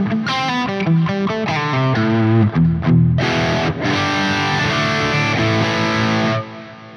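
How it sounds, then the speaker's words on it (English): Electric guitar through a Neural DSP Soldano SLO 100 amp model on its normal channel in crunch mode, playing a steady run of driven, slightly gritty chords and notes, close and loud with no voices. "We've got crunch and clean. So crunch sounds like this."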